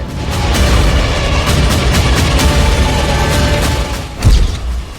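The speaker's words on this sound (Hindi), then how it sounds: "हूथी लड़ाकों ने इजराइल पर मिसाइलों की बौछार शुरू कर दी है" Ballistic missiles fired by Houthi fighters exploding over Israel, a dense roar of booms and blasts with a loud thud near the end, continuous and heavy throughout.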